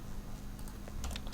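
Brisk keystrokes on a computer keyboard while C++ code is typed, a short, quiet run of clicks with a few sharper taps near the end and no talking.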